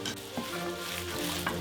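Ground beef and spicy merguez sausage being mixed and turned by hand in a bowl, a steady wet squelching and shuffling texture, close and continuous, with no talk.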